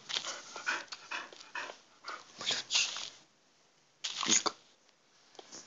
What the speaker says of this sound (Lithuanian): Čia mano šuo labai kvepuoja.